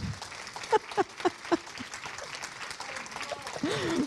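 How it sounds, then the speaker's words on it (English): Audience applause for a couple invited to stand at a spiritual talk, starting with a few loud, spaced claps and rising into steadier, brighter clapping toward the end, with cheering voices over it. "Can we have a huge round of applause for Lauren and James?"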